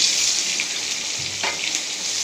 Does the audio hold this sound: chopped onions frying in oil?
yes